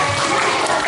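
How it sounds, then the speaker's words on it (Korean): Schoolchildren in a classroom clap together in a brief, dense burst of applause, close and loud. "박수."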